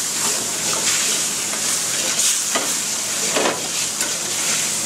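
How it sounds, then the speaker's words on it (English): Gravy for egg foo young, made with chicken stock, is whisked in a pan over heat, giving a loud continuous sizzle and hiss with faint scraping strokes of the whisk, close up and without speech. "And continue to whisk it so it wouldn't burn."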